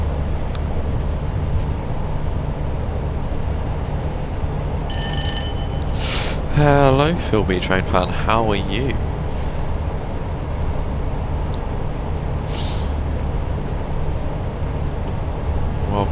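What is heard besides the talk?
Freightliner intermodal freight train 4M83 with new wagons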